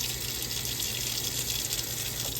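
Hot water runs steadily from a kitchen sink faucet, a loud, continuous hiss and splash with no breaks and no voices.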